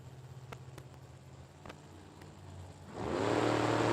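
A drag racing car at a $50,000-to-win World Super Pro Challenge event roars to life after a few sharp ticking clicks, its engine note swelling loud and close in the left lane of the strip.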